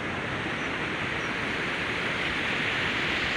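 Steady rushing flow of the Sani river, a dense unbroken wash of water noise that stays loud and close from start to finish, with no voices.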